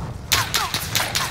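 Gunfire in the video game Call of Duty Warzone: a quick string of about five sharp, crackling shots fired in an uneven rhythm, close and fairly loud over a steady background hiss.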